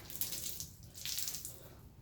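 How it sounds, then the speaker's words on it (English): A garden hose spraying water on a low setting to wet tires taken off their rims, a steady hissing spray that swells and eases across two seconds, fairly quiet and close with no talking. "I'm just going to turn on low power on the water and wet"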